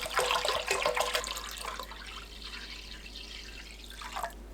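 Bottled water, 2.3 liters, pours into a container for radish kimchi, a loud splashing stream for about two seconds that fades to a softer trickle, with no talking.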